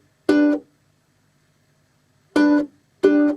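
A ukulele is plucked fingerstyle in three short chords, the first alone and two more after a long pause, each bright and close with a brief ring and silence between.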